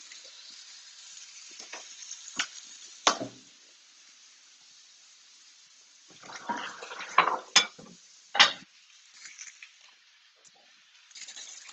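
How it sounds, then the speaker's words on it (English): Steak sears in a flaming hot fry pan on a stovetop with a faint background sizzle, broken by several sharp metallic clatters of utensils against the pan. "while we wait for the steak to sear on one side"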